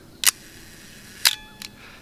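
Shutter of a manual film camera firing with the lens wide open at f1.4: three crisp, close mechanical clicks, the first two a second apart and a softer third shortly after, each with a faint buzzing tail in a quiet room.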